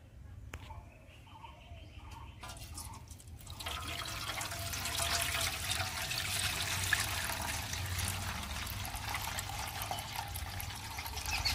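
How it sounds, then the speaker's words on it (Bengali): Water poured and trickling off settled homemade cornflour made from raw potato, a steady close splashing and dribbling stream that grows fuller after a brief quieter start. "আবার জল ঝারিয়ে দিচ্ছি।"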